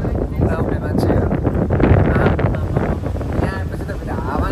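Strong wind buffets the open deck of a boat crossing to Gozo, Malta, a loud, continuous roar and rumble across the microphone with the churn of the vessel beneath it.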